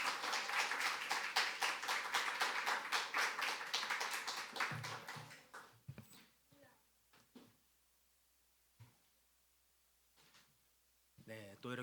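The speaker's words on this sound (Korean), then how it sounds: "말씀 듣기를 위해서 우리 박수로 환영하며 모시도록 하겠습니다" A church congregation claps to welcome the preacher, a dense burst of applause that fades out after about five seconds into near silence broken by a few scattered taps and shuffles.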